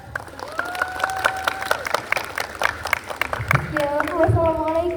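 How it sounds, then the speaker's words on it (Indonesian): An audience claps and cheers at a school class's drama performance about the origin of Mount Arjuna. The applause sounds busy and scattered, while voices call out and sing above it. "Mari kita sambut dengan tepuk tangan yang meriah."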